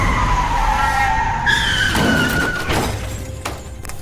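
A car's tires screech in a long, wavering skid, then a crunching impact with scattered debris follows, loud and close.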